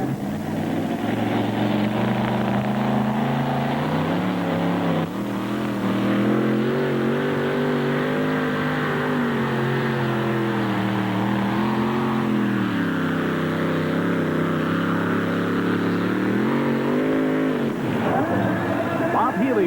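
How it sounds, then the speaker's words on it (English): A powerful aluminum-blown truck-pulling engine in a two-wheel-drive pulling truck roars continuously at a 1988 truck pull in Tomah, Wisconsin, rising and falling in pitch as it revs hard, loud and close throughout. "These are the aluminum-blown West Coast high-performance engines"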